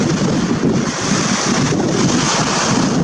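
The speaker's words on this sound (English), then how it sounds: "it's very windy right now, so I don't even know if you can hear me well" Strong wind on a beach buffets the microphone with a constant, loud, roaring rush, covering everything and not letting up.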